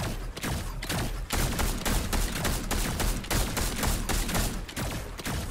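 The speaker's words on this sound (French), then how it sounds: "Vas-y, je tire." Rapid gunfire in Fortnite, bursts of sharp shots in quick succession, loud and close, with brief gaps between volleys and no talk over it.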